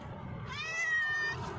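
A white stray cat meows once in a drawn-out, rising and falling cry, close by on the street, over a soft low background hum.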